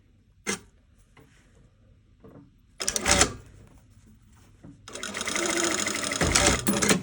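Sewing machine sewing an invisible zipper, a couple of short stitching bursts and clicks, then a longer steady run of close mechanical whirring.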